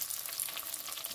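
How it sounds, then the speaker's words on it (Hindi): Green chillies frying in a pan for a spinach and milk dish, a close, steady crackling sizzle with fine spitting pops, brief and alone with no talk. "इसको हम थोड़ा सा फ्राई करके इसको डाल देंगे"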